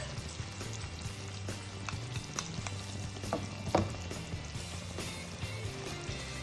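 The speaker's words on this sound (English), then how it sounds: "Just keep shaking your pan a little because the fish should not break." Butter fish simmering in a pan that is shaken now and then gives a steady bubbling sizzle, with soft clunks and scrapes from the pan scattered through it, heard close with no talking.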